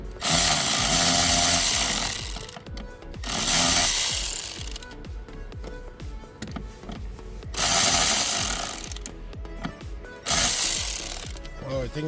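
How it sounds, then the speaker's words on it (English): A power tool whirs in loud bursts while Torx screws are removed from an interior panel of a BMW 328 F30, roughly four runs of a few seconds each separated by quieter handling and clicks, close up with no talk. "we're gonna have a T20 Torx. So that's what I'm gonna start taking off now."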